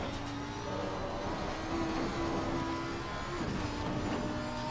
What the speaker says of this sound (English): Going full throttle here.